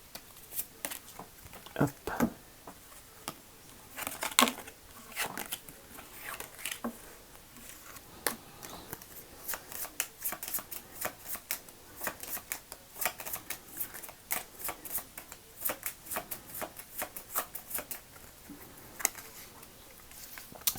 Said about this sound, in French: Alors, je tire quelques autres cartes.